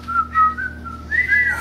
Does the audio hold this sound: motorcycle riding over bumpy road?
no